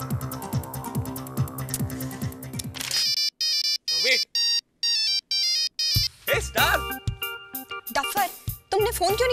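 An electronic phone ringtone plays a bright melodic pattern in repeated bursts, loud and close, amid other background sounds.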